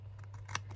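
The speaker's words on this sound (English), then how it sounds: "taking my scissors, cutting one" Scissors cut paper for a junk journal, a few quiet, close snips over a low steady hum.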